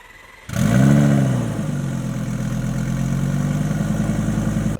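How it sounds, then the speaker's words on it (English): A faulty Lamborghini engine starts up and settles into a loud, uneven idle with a low, lumpy rumble that stays steady after an initial surge. "although the engine does start, it doesn't run all that well."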